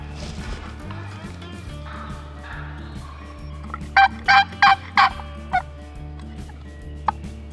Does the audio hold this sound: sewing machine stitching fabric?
no